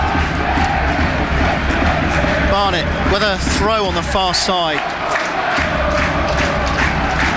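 A football crowd at an FA Cup tie between Exeter City and Barnet roars and chants in a stadium, with a loud, continuous wash of voices under a radio commentator talking.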